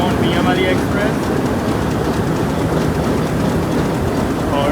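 A Mianwali Express passenger train at Malakwal Junction gives a steady, loud rumble of running wheels and rail noise throughout, with faint higher squeals near the start and end and voices mixed in.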